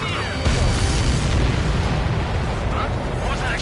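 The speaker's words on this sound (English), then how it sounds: "What was that explosion?" An explosion in the combat flight game Ace Combat 7, a dense roaring blast that holds steady and loud throughout, with jet and battle noise blended in.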